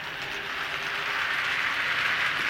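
A small Feldstein vintage die-cast toy locomotive, a lighted 4-4-0 Western-style engine, running after a button press, giving off a steady, fairly loud electronic rushing train sound effect that continues without break; no talking.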